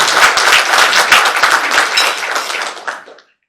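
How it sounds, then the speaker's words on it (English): A museum community luncheon audience bursts into dense applause, many hands clapping together loudly and steadily before it tapers off and stops abruptly. "Round of applause."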